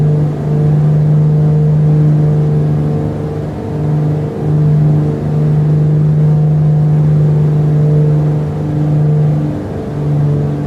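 The twin piston engines of a Black Square B60 Grand Duke in Microsoft Flight Simulator drone steadily and loudly, with a constant low hum that swells slightly as the RPM is adjusted.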